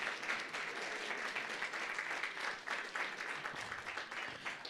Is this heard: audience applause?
yes